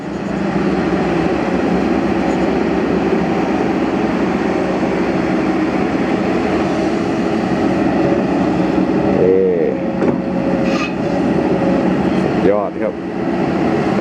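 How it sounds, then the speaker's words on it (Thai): Steady, loud mechanical drone of a Kobelco SK200 excavator, with a faint high whine from its hydraulic pump running through it and a few brief tonal sweeps partway through. "เสียงปั๊มหอนนิดๆ ครับ"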